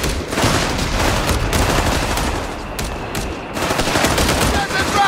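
Heavy machine gun fire in Company of Heroes 3, loud continuous rapid bursts with short gaps, dense and close, mixed with other battlefield gunfire.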